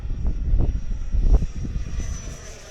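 An FMS Super Hornet F18 RC jet taxiing and flying in a blustery wind, a loud rushing engine whine with gusty buffeting pulses and a rising thin tone toward the end.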